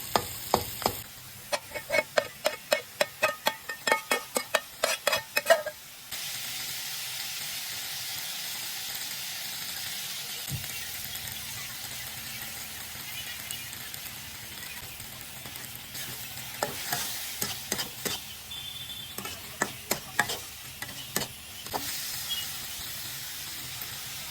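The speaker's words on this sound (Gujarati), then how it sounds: "આ થાય તેટલી વારમાં આપણે આદુ લસણની પેસ્ટ નાખી દઈએ અંદર વચ્ચે" Ginger garlic paste sizzling in a pan for paneer chilli, with a steady frying hiss under bursts of rapid scraping stir strokes at the start and near the end, close and fairly loud.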